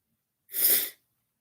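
A single short, sharp sneeze, close and breathy, bursting out of silence and over in half a second.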